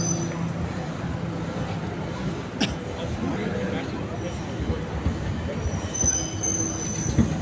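A train rolls along a city street among buses, bicycles and crowds at a crossing, giving a steady low rumble with wheel squeal and a brief sharp clank, while people talk nearby.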